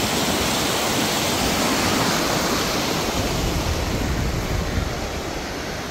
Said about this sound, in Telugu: చిన్న స్ట్రీమ్ ఇది.